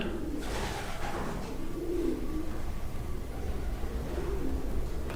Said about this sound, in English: It's difficult with the pigeons because I know they're making a lot of noise up there.